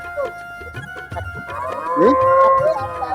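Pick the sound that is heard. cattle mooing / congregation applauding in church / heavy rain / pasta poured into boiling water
cattle mooing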